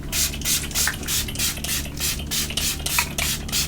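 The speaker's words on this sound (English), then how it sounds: "I do spray my hair as well with rose water." A spray bottle of rose water spritzes onto hair in quick, repeated bursts, about a dozen short hissing pumps in steady rhythm, close and fairly soft.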